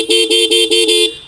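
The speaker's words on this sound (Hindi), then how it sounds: "तो हॉर्न सुन लो" TVS Apache RTR 160 2V motorcycle horn honks loud and close in five quick, evenly spaced toots, each a bright buzzy tone.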